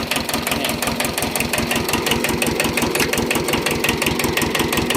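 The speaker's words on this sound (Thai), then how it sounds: "ครับเสียงเครื่องยนต์เดินเบานุ่มๆเลยครับ" An old Japanese tractor engine idles smoothly and loudly up close, with a steady, even rapid chugging pulse throughout and no talk.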